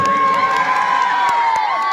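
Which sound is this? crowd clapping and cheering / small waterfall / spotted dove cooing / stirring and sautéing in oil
crowd clapping and cheering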